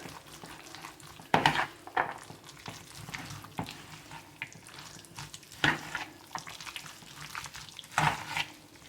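Minced chicken being stirred with mayonnaise in a bowl makes wet, squelching, scraping strokes at an irregular rhythm, with a few louder clacks of the spoon against the bowl.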